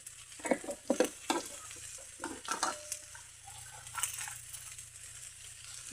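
Tomatoes and salt tipped into a frying pan bring soft sizzling under a few clattering scrapes and clinks of a spoon stirring, fairly quiet and close.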